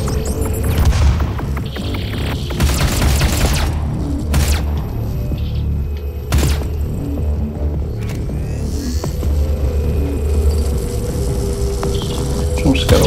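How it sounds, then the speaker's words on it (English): A grenade explodes in the video game Doom (2016). Several heavy booming blasts and crashes stand out over a dense, rumbling game soundscape with a steady throbbing undertone. "How about a grenade in there?"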